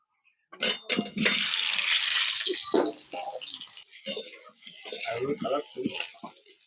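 Potatoes dropped into hot mustard oil already seasoned with bay leaf and whole garam masala burst into a loud, steady sizzle after a brief silence, the frying hiss carrying on with a voice talking over it.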